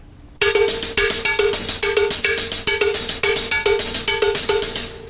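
Cowbell and hi-hat trade strokes in a steady alternating sticking, right hand on the bell and left on the hat, a bright, loud, even pulse of metallic clanks and ticks after a brief quiet start, with no voice.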